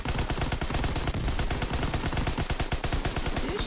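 Rapid, dense gunfire bursts in a video game, loud and continuous, sounding like automatic machine-gun fire with repeated sharp shots throughout.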